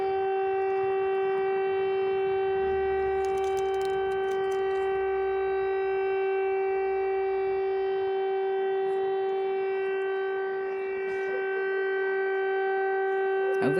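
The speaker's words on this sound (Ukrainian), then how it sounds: "Ой, включили сирену, не дає розмовляти." A siren drones outdoors in Ukraine as a long, steady, loud tone that holds throughout, with no talking.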